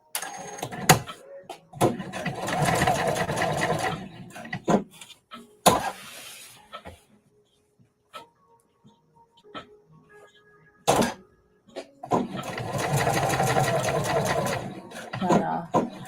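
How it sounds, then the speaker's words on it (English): A sewing machine stitches a vest in bursts, its motor whirring and needle chattering for a few seconds at a time, separated by quieter gaps with small handling clicks. "Just sewing one."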